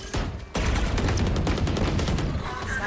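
Rapid gunfire in Valorant, a dense burst of close shots that keeps going for a few seconds after a short pause, with players talking over it.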